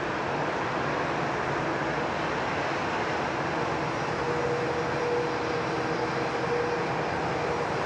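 An airliner departs from Sydney Airport, its engines a steady, broad roar that fills the whole stretch without easing, heard from a distance with no voices.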